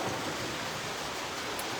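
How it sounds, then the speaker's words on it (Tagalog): Heavy rain pours steadily outdoors during cooking, a dense, constant hiss that fills the whole stretch with no pauses and no voices. "Grabe. Ang lakas ng ulan dito."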